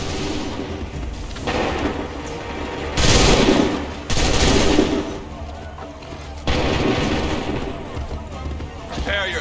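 Musket volleys in an Assassin's Creed 3 battle on PC: a few loud, sharp bursts of massed gunfire crack out amid a continuous battlefield din, with shouted voices heard nearby.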